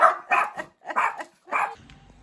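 Chihuahuas bark sharply in quick bursts at a doorbell, several yaps close by, then a short pause and another volley.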